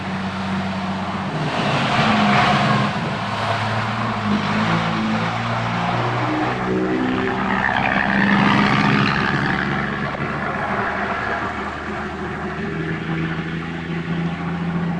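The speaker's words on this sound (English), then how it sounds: "It's not every day a big truck comes here." A big truck driving past, a loud broad engine rumble that swells and fades across the scene, steady and close with no talking.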